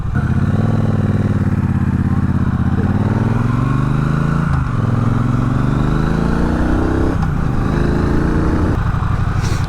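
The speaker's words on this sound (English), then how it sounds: "So that's just when I change gear and just ride it on the torque, and that works really well." A Triumph Bonneville Bobber motorcycle rides along with its loud engine close by, climbing in pitch through the gears, with short dips at each change and steady wind rush throughout.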